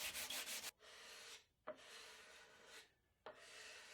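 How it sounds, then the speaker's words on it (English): A hand scraper drags across sanded solid wooden box parts in three long, steady raspy strokes, each separated by a brief pause, close and alone without any talking. "I'm going to use my scraper to finish smoothing it."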